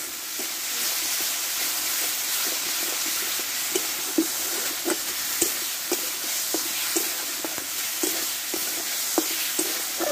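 A spice masala fries in a pan for a potato and chickpea curry, giving a steady hiss, while a spoon stirs it with regular scraping taps, close and continuous with no talk.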